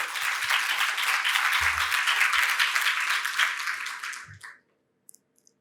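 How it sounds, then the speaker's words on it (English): Conference audience applauding, a dense even wash of clapping from a large crowd that holds steady and then tapers off abruptly into near silence. "A big round of applause to the IBA team."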